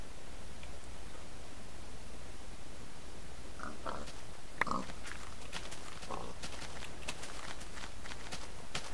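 Pigs in the video game Minecraft give a few short grunting oinks over a steady background hiss, with faint footstep-like clicks scattered through.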